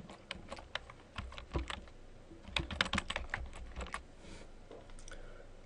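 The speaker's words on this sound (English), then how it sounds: "I'm going to go ahead and type in an email address" Keys clack on a computer keyboard as an email address is entered into a web form, in quick irregular bursts with short pauses between them, close and clear with no voices.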